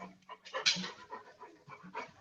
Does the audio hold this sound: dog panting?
yes